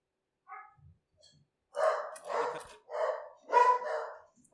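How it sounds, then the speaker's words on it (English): Several dogs bark in short, loud bursts, a few faint yips first and then four strong barks in quick succession, close by and with no talking. "Got my dogs freaking out."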